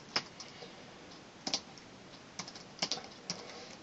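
Typing on a computer keyboard, with several sharp, separate key clicks in an irregular rhythm, close and fairly quiet against a faint steady background hiss.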